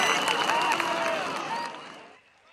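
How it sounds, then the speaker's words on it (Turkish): Crowd applause at an outdoor CHP political rally in Esenler, Istanbul, with cheering and voices mixed into a dense wash of clapping that fades out near the end. "Ahtapota bir alkış."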